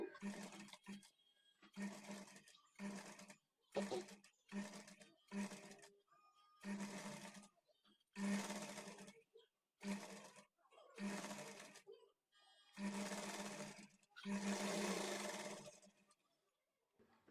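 A sewing machine stitches the side seam of a blouse in repeated short bursts, each run a second or so long with brief pauses between, loud and close, with a low steady hum.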